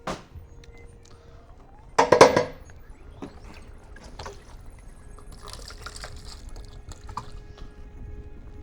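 Sparkling wine base is poured from a pitcher into a carboy. A loud splashing gush comes near the start, then the pour settles into a quieter, uneven trickle and drip.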